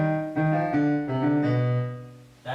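Slow piano rendition of a section of the Shin Gojira theme, a handful of sustained notes and chords struck one after another at an unhurried pace, close and clear with no voices.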